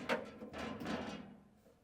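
A Fisher-Paykel refrigerator freezer's double freezer drawer, large and built into a luxury coach, gives a short slide-and-thump, a brief knock followed by a rolling glide that fades out over a couple of seconds, fairly quiet and close.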